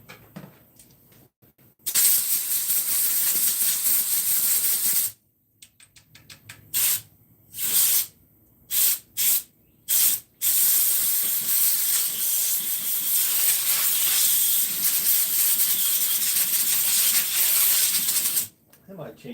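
A spray gun hisses through its nozzle in loud bursts: a long spray, a quick series of short puffs, then another long sustained spray, with quiet gaps between.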